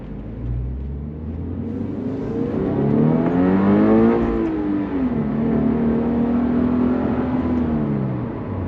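A 2022 Toyota GR86 / Subaru BRZ fitted with an HKS Legamax Premium axleback exhaust accelerates through the gears in traffic, its engine note rising steadily, dipping at a shift, then climbing again, heard from inside the car.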